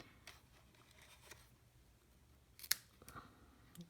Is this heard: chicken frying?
no